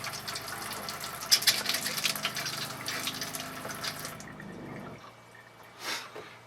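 Water running from a tap inside a 30ft Hurricane Class A motorhome with the onboard pump on, a steady close splashing flow that stops near the end, followed by a brief faint sound.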